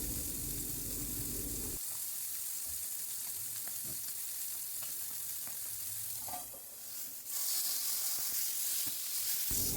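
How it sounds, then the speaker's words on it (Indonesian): A beef patty fries in margarine in a non-stick pan, giving a steady, loud sizzle with crackling spatters and a short dip in the middle before the hiss swells again. "kita panggang daging dengan teflon dan dengan margarin"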